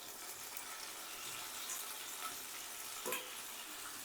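Boiled raw papaya stir-fried in a pan with cashews and raisins gives a faint, steady sizzle, with a brief scrape of stirring near the end.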